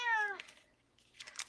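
A cat meows once, close and clear, then gives a shorter, fainter call a moment later in an indoor room.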